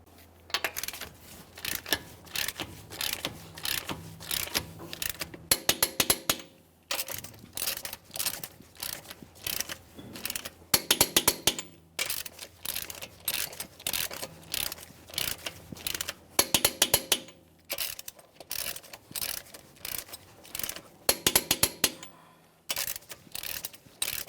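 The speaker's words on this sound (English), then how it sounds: "We'll be torquing these to 150 foot-pounds in a crisscross manner." A torque wrench tightens the wheel lug nuts on a 2015-2020 Ford F-150 in repeated bursts of rapid ratchet clicking, close and crisp, separated by short pauses as it moves from nut to nut.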